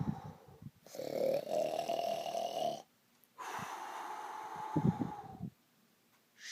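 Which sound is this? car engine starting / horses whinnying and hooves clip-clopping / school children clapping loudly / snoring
snoring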